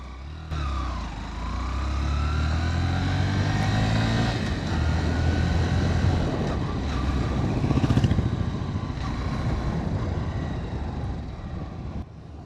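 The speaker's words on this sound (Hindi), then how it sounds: "एक बार राहुल को बैठा के देख लेता हूँ डबल सवारी पे, क्या स्थिति है इसकी।" A Honda Shine 100 DX 100cc commuter motorcycle carries two riders, its engine droning steadily close by with a rising pitch as it accelerates and with wind rush over it, and no voices.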